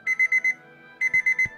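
Two bursts of four quick, high electronic beeps each from the game Guild of Dungeoneering, loud and clear, separated by a short pause.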